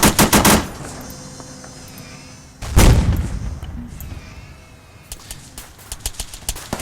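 Video game Arma 3 artillery firing: loud bursts of booming shots, a cluster at the start and a heavy blast in the middle, then scattered lighter reports later.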